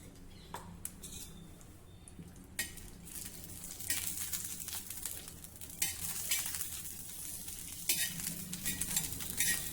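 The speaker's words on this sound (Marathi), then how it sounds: "सर्वप्रथम लोखंडाच्या तव्यावर आपण ही लाल मिरची भाजून घेऊया। अगदी थोडंसं तेल घालणार आहे।" Red chillies roasting in a little oil on an iron griddle, a soft steady sizzle with scraping and stirring clicks from a spatula, building a little louder toward the end.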